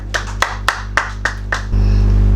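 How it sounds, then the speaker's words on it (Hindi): Six sharp hand claps in a steady, quick rhythm at a Hindi kavi sammelan poetry gathering, close and distinct, then the clapping stops and a low steady hum remains. "तो मैम एक बार आपके लिए जोरदार तालियां।"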